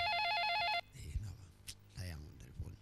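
An electronic telephone ringtone warbles loudly for under a second, then stops, and a person begins speaking afterward.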